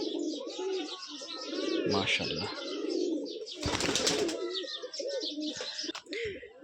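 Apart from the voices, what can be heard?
male roller pigeon cooing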